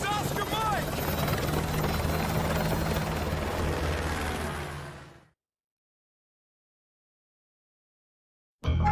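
A military helicopter in the Modern Warfare 2 video game roars loud and steady with a deep rotor thrum, then cuts out abruptly to silence before another burst at the end.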